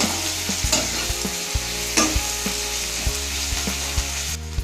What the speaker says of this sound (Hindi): गोल्डन कलर आसे पर्यंत पियाज को टिके एमती भाजुथिबे